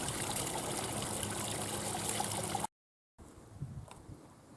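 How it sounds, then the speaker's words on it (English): Water trickles out of a mountainside near Sapa village in Vietnam, a steady, dense splashing flow heard up close. It cuts off abruptly, then comes back softer. "Some water coming out the mountain."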